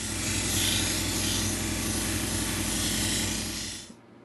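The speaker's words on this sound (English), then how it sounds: "this is cerium oxide polishing wheel in the end" A cerium oxide polishing wheel works a Lake Superior agate, giving a steady, loud, broadband rasping whir with a low mechanical rumble that holds evenly for almost four seconds before cutting off abruptly.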